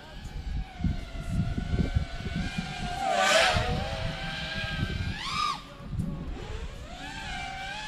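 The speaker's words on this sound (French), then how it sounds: "les moteurs sont vraiment excellents" Electric motors on an RC model airplane, E-Flite 2306, give off a high-pitched whine that rises and falls as the plane passes overhead, with sweeping pitch changes over a low rumble of wind and background noise.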